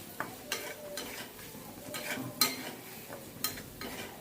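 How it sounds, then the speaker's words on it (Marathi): Pav bhaji masala and red chilli powder are stirred in a pan, with soft sizzling and repeated spoon scrapes and clinks against the metal about once a second, close and without talk. "एक चमचा पावभाजी मसाला टाकूया एक चमचा लाल तिखट टाकूया ते मिक्स करून घेऊया"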